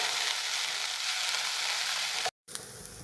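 Black pepper and green chilies sizzle steadily in a hot pan while being stirred, a dense, even frying hiss with no talk that cuts out briefly near the end and then resumes.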